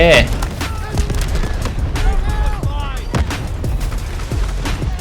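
Gunfire in the shooter game Delta Force, with repeated sharp shots in irregular bursts and deep booms, loud and close, while someone talks over the action.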